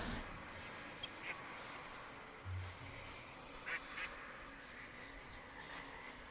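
A duck in the Hytale video game gives a few faint, short quacks spread over quiet background ambience.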